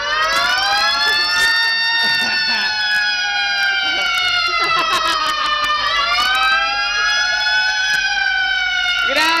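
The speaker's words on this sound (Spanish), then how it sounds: "Nos prestaron la sirena." A loud electronic siren wails continuously, its pitch sweeping up and down over several cycles and filling the space, while a voice briefly speaks over it.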